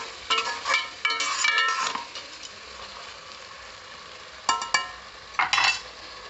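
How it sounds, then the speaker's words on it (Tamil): Country chicken with ginger garlic paste is stirred in a pot: bursts of close metal scraping and clinking over a sizzling fry, pausing between sweeps, then a few more short stirs. "நல்லா ஒரு பெரட்டு பெரட்டி விட்டுக்கலாம்"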